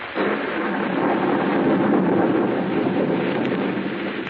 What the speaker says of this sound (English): A storm rages wildly over the countryside.